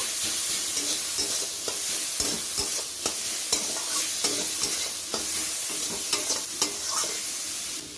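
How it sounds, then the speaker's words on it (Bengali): Onions with salt stirred and fried in a pan, a continuous loud sizzle broken by repeated scraping strokes of the spoon at an uneven rhythm, close up and without talk. "পেঁয়াজটা একটু নেড়ে চেড়ে ভেজে নিতে হবে"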